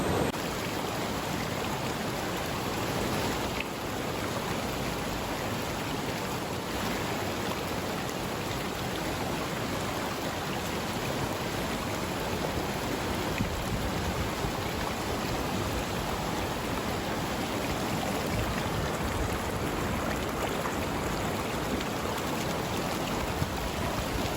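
River water rushing over rocks near a small waterfall in Alaska, a dense, constant roar of flowing water that stays even and close throughout, with no voices.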